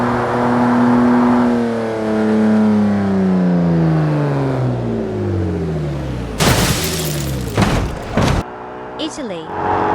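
A car revs hard with a falling engine whine as it launches off a jump, followed by a burst of loud crashing and shattering impacts near the end.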